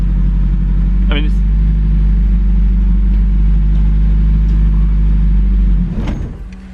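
A Datsun Sunny engine idling with a loud, steady low rumble during a build, then abruptly stalling and dying away near the end with a brief clatter.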